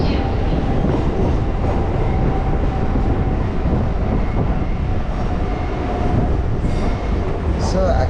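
A Hyderabad MMTS local train runs between Falaknuma and Lingampally, heard as a steady, loud rumble and rattle of the carriage with a faint clickety-clack throughout.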